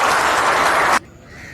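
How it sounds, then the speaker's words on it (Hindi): Loud, dense applause from a crowd at a talk on the Agniveer programme, sustained for about a second and then cutting off abruptly into near silence. "तो बजाओ फिर एक बार जोरदार ताली।"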